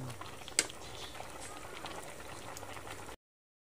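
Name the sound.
pasta cooking in a pot, being stirred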